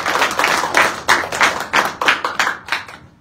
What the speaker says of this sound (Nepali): ताली बजाएर